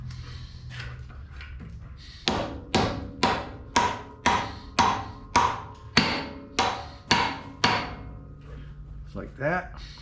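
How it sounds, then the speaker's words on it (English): A plastic hammer taps a surface grinder's top piece into place with about ten evenly spaced, sharp knocks in a steady rhythm, close by, with brief speech just after. "let me get a plastic hammer"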